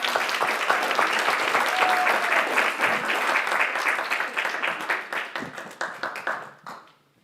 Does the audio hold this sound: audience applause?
yes